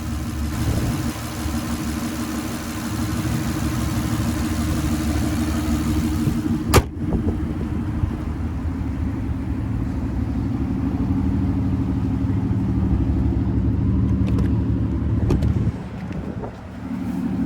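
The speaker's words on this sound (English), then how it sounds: "And there's that V12 engine there." The V12 engine of a 2014 Aston Martin Vanquish idles steadily with a deep, even rumble, a sharp click partway through, continuing throughout with no talking.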